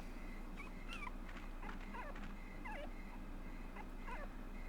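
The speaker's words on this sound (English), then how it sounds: "she heard a dog's bark" A dog in the video game Rule of Rose gives a series of high, whining yelps and barks, faint and distant over a steady low background hum.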